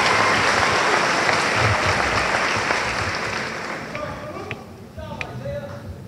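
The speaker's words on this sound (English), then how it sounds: "Another round of applause," Audience applause at a high school graduation awards presentation, a dense, loud burst of clapping that gradually thins out and fades toward the end.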